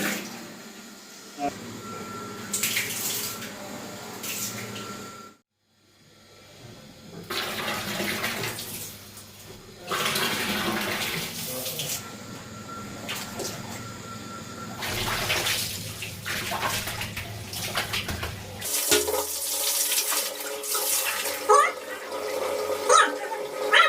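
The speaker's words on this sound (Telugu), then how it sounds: "రివర్స్ కొట్టిన తర్వాత మనకి ఇక్కడ వాటర్ వచ్చేసింది" After a pump motor is reversed, water gushes from a pipe into a tank in a continuous splashing flow, broken by one brief pause, while people talk nearby.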